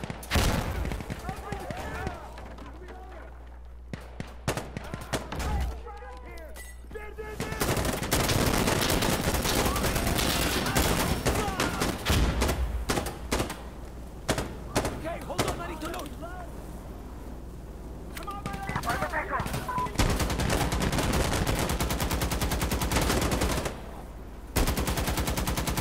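Sustained gunfire in the tactical shooter Insurgency: Sandstorm, long bursts of automatic fire with scattered single shots, loud and fairly continuous, under frequent shouted voices.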